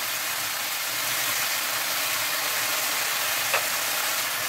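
Turkey pieces frying in a pot give a steady, broad sizzle throughout, and red pepper goes in near the end with a faint added crackle. The sound is constant and close, with no talking.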